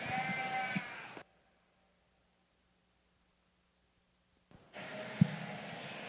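Young South Down rams bleating at a junior breeding sheep show at a state fair, a loud bleat, then a long quiet gap before more close bleating and a sharp short call.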